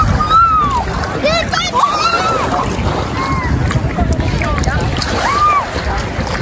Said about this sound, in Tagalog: lumalakas ang alon